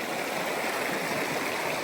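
The Siffleur River flows steadily in the Banff backcountry, heard as a soft, constant rushing of water with no break, and no voices.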